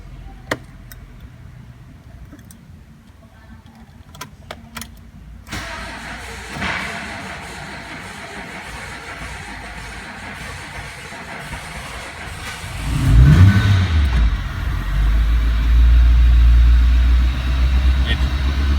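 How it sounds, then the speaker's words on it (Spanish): A Renault Logan sits quiet under faint background noise and scattered clicks, then its engine turns over and catches, swelling into a loud, steady low rumble that keeps running to the end. "Vamos a prender este vehículo"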